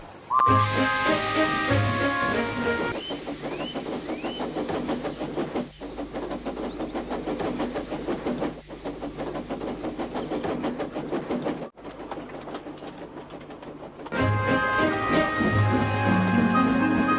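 A steam engine chuffs in a steady rhythm under continuous hiss, with bright tonal notes sounding over it, loud and close.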